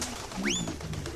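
A single short pigeon coo rises and falls in a Jazzpunk video game scene, heard once against a soft, steady background ambience.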